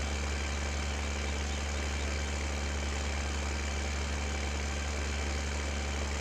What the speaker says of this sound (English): I like this old little tractor.